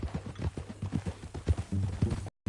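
A horse clip-clops along at a steady walk, hooves striking in an even, close rhythm before cutting off abruptly.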